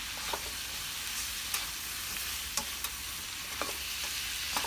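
Shrimp sizzle in a pan cooking outdoors in a backyard, a quiet steady hiss broken by sharp scraping and clinking stirs every half second or so, with no talking.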